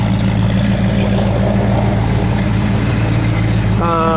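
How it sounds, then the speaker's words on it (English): A 1964 Ford Falcon Futura idles steadily nearby, an even low engine drone throughout, with a brief tonal squeal or voice-like sound entering right at the end. "Car sounds great."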